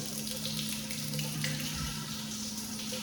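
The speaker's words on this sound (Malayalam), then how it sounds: "ഈ ടാപ്പിന് വെള്ളം കൊണ്ടുവന്നത്." A tap runs steadily at Porretta Terme, Italy, its broad hiss of water constant and fairly close, with a low hum underneath and no voices.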